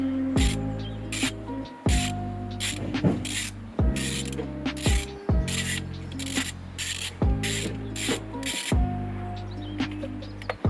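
A socket ratchet clicks in bursts as it undoes 10mm rocker cover bolts on a classic Mini engine. Each burst is a fast run of close mechanical clicks, followed by brief pauses.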